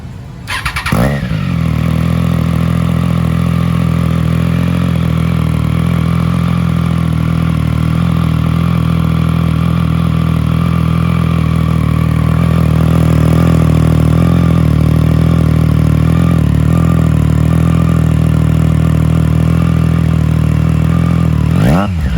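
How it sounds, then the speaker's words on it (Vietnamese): A Triumph Trident 660 motorcycle with an HP Corse exhaust runs close by, holding a loud, deep idle with a brief blip at the start and a swell in the engine note midway, with no talking. "Rồi test tiếng bô cho anh em nghe."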